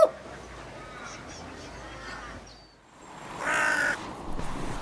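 A crow caws several times, harsh and fairly close, with a louder burst of cawing toward the end.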